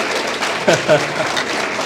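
An audience applauds at a CT University entrepreneurship awareness event in Ludhiana, with dense, steady clapping from a crowd. A brief voice rises over it.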